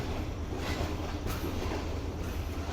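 The Pak Business Express rumbles along the line from Karachi to Lahore, a steady, loud, close roar of wheels and carriage noise heard from on board, with faint clattering and no voices.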